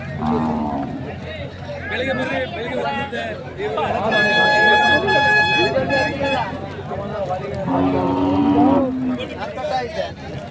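Cattle moo at the weekly Saturday livestock fair at Gavi Rangapura hill, with drawn-out calls rising over the busy crowd's constant chatter and a brief horn-like toot in the background.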